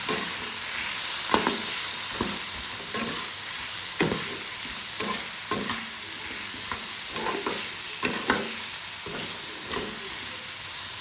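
Ghugni stirred with salt in a frying pan, with a constant sizzle and steamy hiss under the repeated scrape and clack of a spatula against the pan at an uneven rhythm.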